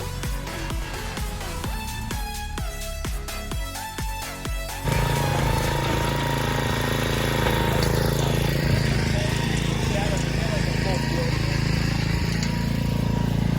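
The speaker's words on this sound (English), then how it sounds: "Dustin can get in there and evenly till so that we can build the new rows" A motorized garden tiller churns soil for new vegetable rows, its engine starting loud and steady partway through after some clattering, then running continuously nearby without speech.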